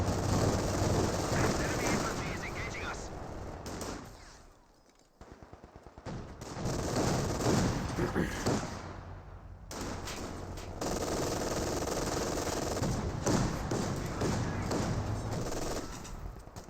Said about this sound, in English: MG42 firing away.